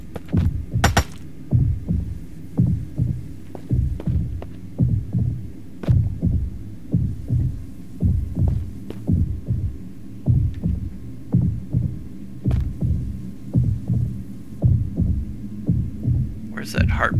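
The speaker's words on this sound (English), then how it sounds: "Where's that heartbeat coming from?" Heartbeat in the survival video game Mist Survival, a steady thumping double pulse repeating about once a second over a low hum, with a quiet voice briefly underneath.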